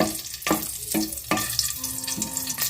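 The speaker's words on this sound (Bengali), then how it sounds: "কাঁচা লঙ্কাগুলোকে একটু ফ্রাই করে নিতে হবে" Two green chillies frying in fully heated mustard oil for a mustard hilsa dish, a close bubbling sizzle broken by several sharp spatters and utensil knocks.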